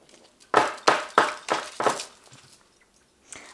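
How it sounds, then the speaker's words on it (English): Five quick papery slaps of tarot cards being shuffled in a steady rhythm, close and crisp, then a brief pause and one softer rustle. "Let's just shuffle these cards."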